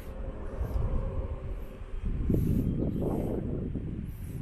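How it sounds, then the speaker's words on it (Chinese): A train passes a small railway station where passenger service has stopped, a steady low rumble of wheels and cars building and swelling through the clip with no talk. "刚刚又有一辆火车经过"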